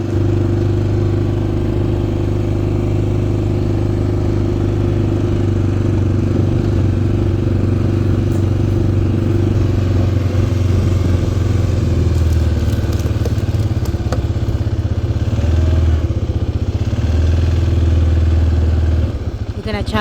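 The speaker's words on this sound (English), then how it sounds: "We're gonna challenge the four-wheeler." A quad bike four-wheeler engine runs loud and close while riding through fields, a steady rumbling drone with rattling and clatter over rough ground and brief wind noise.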